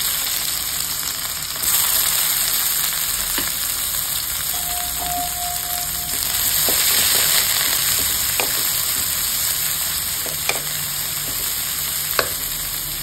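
Crushed shallots and crushed garlic cloves sautéing in oil after mustard seeds have popped, for a paarai fish coconut curry; a steady soft sizzle with occasional light clicks of a spoon against the pan.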